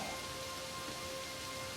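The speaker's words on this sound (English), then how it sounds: "Rain hammered the window." Steady heavy rain beats against a window in a dark room, a dense, continuous wash of patter with no pauses, fairly close and even in level throughout.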